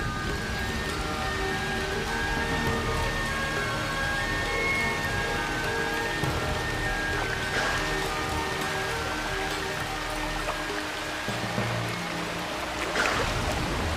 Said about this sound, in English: It has been raining heavily in Kaziranga for the last 3 months.